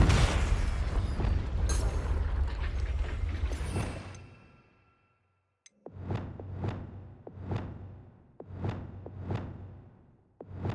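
Confringo spell explosion in Hogwarts Legacy, a broad blast that fades out, followed by a series of evenly spaced sharp bursts in quick succession at moderate volume.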